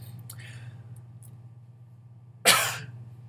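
A single sharp cough bursts out up close near the end, strong and brief, after a stretch of quiet room hum with faint faraway noises.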